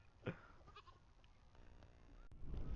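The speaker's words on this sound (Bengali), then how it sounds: "সে কিন্তু ছাগলগুলো সব তাড়িয়ে দিল" Goats being chased off on a rainy outing give a short, faint bleat early on, then soft background noise follows with a rustle near the end.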